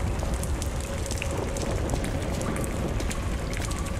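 Steady, dense rainfall pours at night over a train station in the video game Lies of P, a continuous close hiss of drops on hard surfaces with no pauses.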